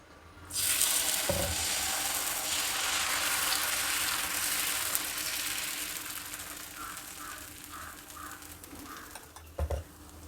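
Adai dosa batter of mixed lentils sizzles steadily on a hot pan, a bright, dense hiss that holds for several seconds with a few soft clinks near the end.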